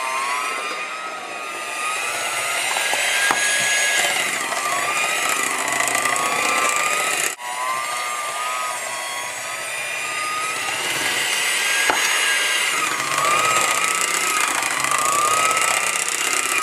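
An electric stand mixer motor whirring steadily as it beats an egg into sugar cookie batter, a loud continuous whine with shifting tones and a brief dip midway, close and without talk.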